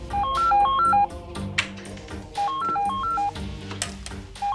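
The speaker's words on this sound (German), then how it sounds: "Sie hören das Telefon? Ich höre das Telefon" An electronic telephone ringtone plays a short stepping melody of beeps, pauses, then repeats the same pattern, fairly close and clear.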